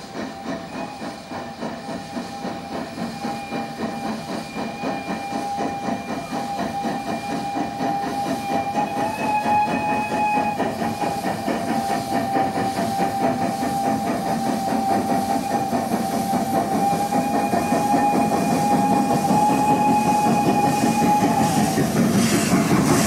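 A Romanian-built Prussian P8 class steam locomotive, number 230224, works a special train out of Brasov, its rapid chuffing exhaust and hiss building steadily over clicking wheels, with a sustained whistle tone sounding throughout.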